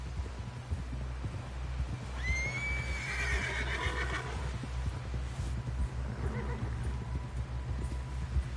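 A horse in the Red Dead Redemption video game gives a loud, drawn-out whinny over steady clip-clopping hooves and a low rumbling backdrop.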